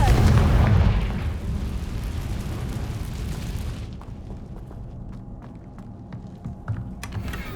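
A Confringo spell explosion in the game Hogwarts Legacy, opening with a loud, deep blast that rumbles and fades over a few seconds before quieter clicks and small ticks follow.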